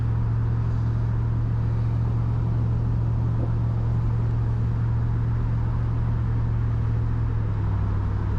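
A freshly swapped-in, nearly new 5.3 V8 idles in Austin's truck, a steady low rumble with a constant hum that runs unbroken and close, with no voices.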